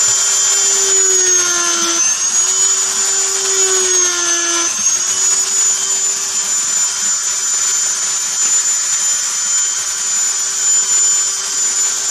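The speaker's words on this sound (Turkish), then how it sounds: "Gördüğünüz gibi incecik bir uçla yüzlerce delik deliniyor." A power drill with a thin bit runs steadily while drilling hundreds of holes in PVC pipe. It gives a loud, continuous high whine whose pitch dips briefly under load in the first few seconds, then holds level.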